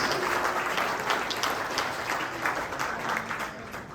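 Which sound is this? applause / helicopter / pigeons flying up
applause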